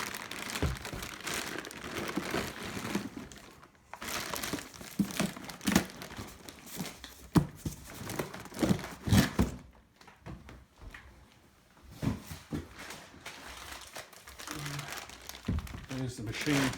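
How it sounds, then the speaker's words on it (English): An AL-50V lathe is lifted out of its packaging, with plastic wrap crinkling and crumpling in bursts, punctuated by thumps and knocks as the machine is handled, while a person talks over it. "Lift the machine out of the packaging."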